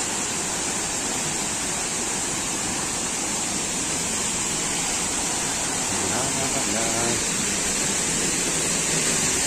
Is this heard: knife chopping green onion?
no